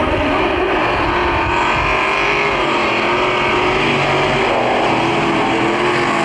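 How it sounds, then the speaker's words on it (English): A 1955 Chevy Nomad drag car with flame-throwing exhaust and wheel-standing launches roars loudly and steadily at a drag strip, its dense engine noise continuous throughout with no voices. "a great show with his flame-throwing, wheel-standing 55 Chevy Nomad."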